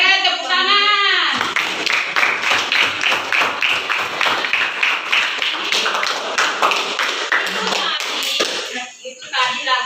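A classroom group at a junior high school claps together in a loud, sustained burst of applause that lasts several seconds. It opens and closes with a teacher's voice speaking.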